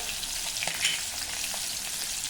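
Green chili, a pinch of asafoetida and turmeric frying in hot oil in a pan, a steady soft sizzle with faint crackles and a stir or two, no voices.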